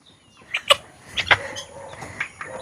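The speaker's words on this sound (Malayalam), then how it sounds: "നമ്മുടെ ഈ വലിയ കോഴിയില്ലേ, ഇവരെ പറയുന്ന പേരാണ് സേസ." A few short clucks from a chicken, close and moderately loud, scattered over a quiet background.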